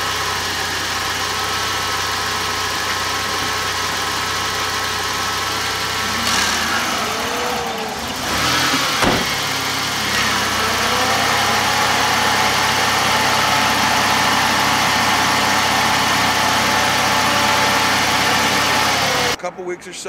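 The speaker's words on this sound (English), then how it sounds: "once the AC compressor goes on, you'll see it turns the fan on, and you'll see the air blow that away" Flex-a-lite electric radiator fan switching on as the AC compressor engages on a car with its engine idling, producing a steady mechanical hum and whir over the low idle, with a brief shift in sound midway.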